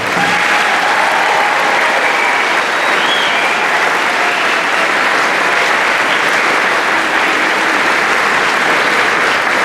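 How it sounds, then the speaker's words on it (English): A large commencement crowd applauds graduating high school seniors, with loud, dense, continuous clapping and faint crowd noise throughout. "Let's give them all a big round of applause."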